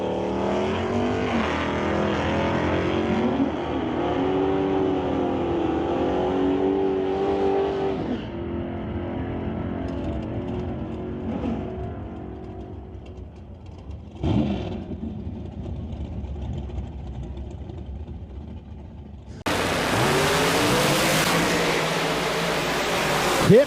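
An NHRA drag racing car engine accelerating: a loud, continuous roar with rising and shifting pitch, easing somewhat midway before a sudden, even louder surge near the end.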